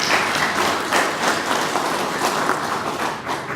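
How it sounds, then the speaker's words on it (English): Dense applause from an audience at a public forum on the future of downtown Hamilton, steady and sustained throughout with a broad crowd wash of clapping at close-to-mid distance. "give them a quick round of applause"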